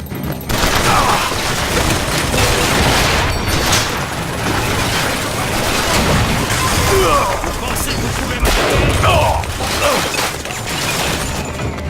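Dense, continuous automatic gunfire from a turret in the video game BioShock Infinite, loud and close, with repeated bursts, booms and crashing impacts over a busy battle din throughout.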